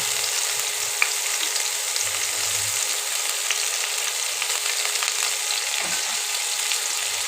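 Chopped onion, tomato and chilli frying in a pan make a constant, even hiss of sizzling oil with occasional faint stirring taps, close and uninterrupted.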